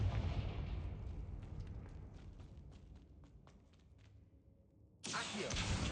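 Confringo blasting spell in a Harry Potter video game: a rumbling, crackling game soundscape with scattered thumps gives way to a sudden loud explosive blast near the end that keeps roaring.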